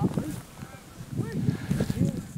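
Geese on a dry-land duck and goose hunt honk in repeated bursts, several loud, close calls overlapping with voices in the background.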